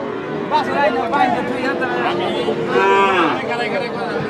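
Cattle moo at the Hazratpur cattle market in Keraniganj, where heifers are sold. Several long, loud bellows rise over a constant murmur of crowd chatter and nearby voices.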